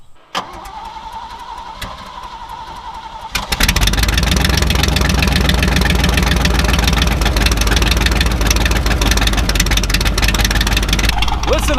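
A Chevrolet S10 truck's V8 with straight open header exhaust cranks and catches after a few quiet seconds, then settles into a loud, raw, throbbing idle that holds close and steady.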